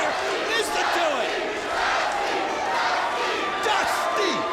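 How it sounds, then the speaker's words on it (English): A wrestling arena crowd roars for Dusty Rhodes, a dense, sustained wall of cheering and shouting that holds loud for the whole stretch, with occasional louder yells rising out of it. "Dusty, the crowd's going nuts, Mike, today."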